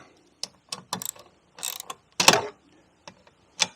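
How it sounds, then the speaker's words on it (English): A ratchet tightens bolts on a Honda HS520 snowblower during a belt replacement, giving short separate clicking bursts at irregular intervals, close and fairly quiet, with no talk. "Now I'm going to tighten everything up."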